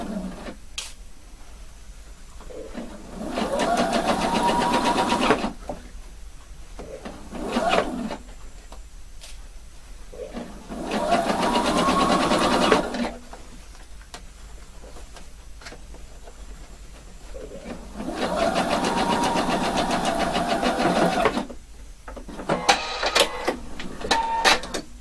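A sewing machine stitches a shirt collar in three long bursts of rapid, even whirring, separated by pauses with a few short stitching spurts and quiet handling.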